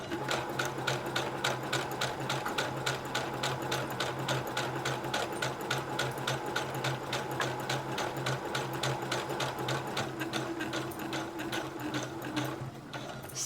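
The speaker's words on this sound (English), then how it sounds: "Now I'm going to stitch forward. So let go of your back stitch button and let's stitch forward." Brother computerized sewing machine stitching a seam forward, a steady rapid needle clatter running continuously and evenly throughout, close and moderately loud with no talking.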